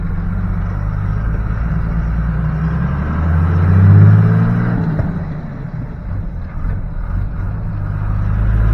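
A first-generation Cummins diesel engine pulled from an old Ford F350 truck runs nearby, a loud, steady low rumble that swells briefly as it revs and then settles back to idle.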